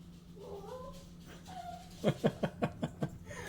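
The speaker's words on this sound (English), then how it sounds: "my dog's barking" A dog barks at a squirrel six times in a quick, even series over a steady background hum, with a few faint whimpers just before.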